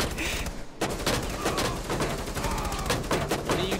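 Rapid gunfire in the video game Rainbow Six Siege, dense continuous bursts of shots filling the whole stretch, loud and close, with a brief gap near the start.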